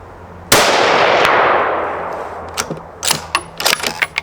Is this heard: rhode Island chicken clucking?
no